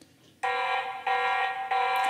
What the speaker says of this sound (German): tatsächlich ein akustischer Alarm aus der Kamera bei Bewegungserkennung. Das war ziemlich durchdringend.